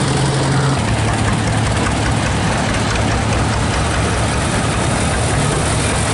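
Tractors in a parade rumble past with a heavy, steady low engine drone and idling hum, loud and close, holding continuously without talk over it.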